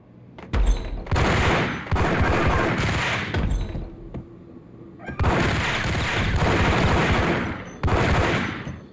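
Rapid submachine gun bursts from the Max Payne video game, loud, close bursts of automatic fire separated by short pauses, with one long stretch and later a second sustained volley.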